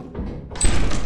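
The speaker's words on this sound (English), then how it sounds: "I'm just opening a door." A door opens in Lethal Company: a soft, muffled thud is followed by a louder sliding, rushing swoosh that sustains to the end, close and clear with no talking.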